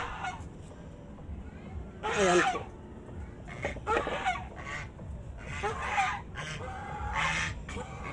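Several geese honk loudly in separate bursts, some overlapping, close by, with someone speaking briefly between the calls.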